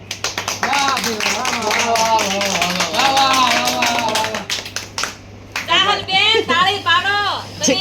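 Audience clapping at a village gathering, a dense run of quick hand claps under loud voices that keep talking and singing, then fading as the chatter continues alone.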